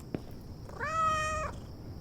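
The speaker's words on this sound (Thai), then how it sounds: "เี่ทำไมแมวร้อง" A single drawn-out cat meow from the horror game Kyoto Anomaly, clear and fairly close over quiet low ambient background noise, with no talking.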